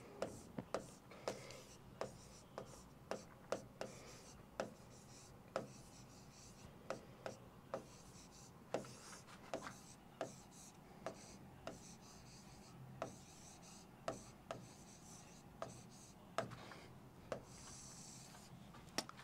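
Someone writes by hand on paper, leaving a steady run of short, crisp scratching strokes close by. A quiet room sits underneath, and no talk stands out.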